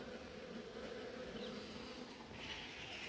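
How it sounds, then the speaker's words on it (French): A steady, dense buzzing of many honeybees close by inside an anti-hornet tent at an apiary, continuous throughout with no voices. "Il y a beaucoup d'abeilles dans la tente."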